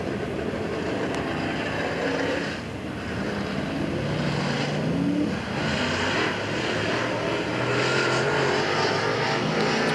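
Race cars at Hagerstown Speedway pulling out for two-lap time trials, a steady loud engine drone with rising and falling revs through the whole stretch, no talking.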